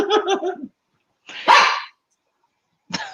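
A dog barks in several close, loud bursts: a quick run of yaps, a longer harsh bark after a pause, then a short final bark, with silence between.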